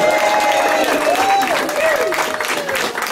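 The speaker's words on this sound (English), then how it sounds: "Let's try that again and try out the clap sound." An audience at a live Nashville radio show claps steadily and loudly, with crowd voices and a whistle-like tone rising over the applause.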